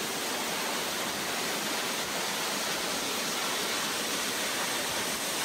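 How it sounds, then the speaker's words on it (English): Waterfalls in the mountain interior near Chimborazo, their sound echoing off surrounding rocks as a dense, constant hiss of falling water, steady and unbroken, with no voices. "leading us to impressive waterfalls echoing in the surrounding rocks"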